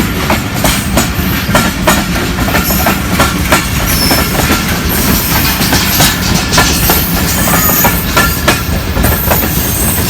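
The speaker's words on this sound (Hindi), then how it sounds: "दोनों साइड से ट्रेन आ रहा है, एक आगे से एक इधर से जा रहा है।" Trains running on both tracks at once, with a steady rumbling roar and rhythmic clickety-clack of rail wagons close by, continuous throughout with occasional squeal-like high accents and no talking.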